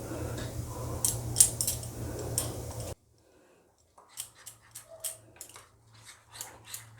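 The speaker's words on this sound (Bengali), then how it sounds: "আমি প্রথমে চামচ দিয়ে একটু মেখে নিই" A spoon mixes flour, yogurt and salt into paratha dough in a bowl, with soft scraping against a constant background hum at first, then quieter irregular clicks and taps of the spoon.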